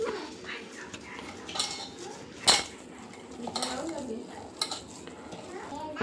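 A spoon mixes mashed poha with cooked peas in a bowl, giving soft scraping and occasional sharp clinks against the bowl, fairly quiet and close, with brief background sounds.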